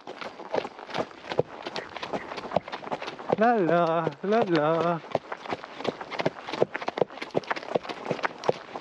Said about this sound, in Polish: To jest najwygodniejszy koń.